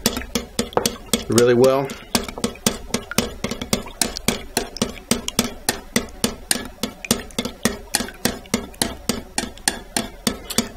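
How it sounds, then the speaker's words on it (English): Eggs and heavy cream are whisked together in a bowl, a fast, steady run of sharp metallic clicks against the bowl's side that carries through the whole stretch, with a brief spoken remark near the start. "You want to take those and whisk them together"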